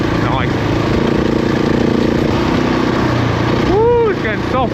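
A motorbike engine drones steadily while riding off-road through soft sand at the end of a field, close and loud, with a brief rising rev near the end.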